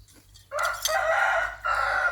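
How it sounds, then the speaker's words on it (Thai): Rooster crowing close by on a farm with many chickens, one loud drawn-out cock-a-doodle-doo followed by the start of a second crow after a brief break. "ไก่เยอะเป็นเยอะ"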